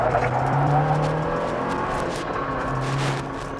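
A Jeep Wrangler with its speed limiter removed accelerates down the road, its engine a steady loud drone that fades slightly toward the end.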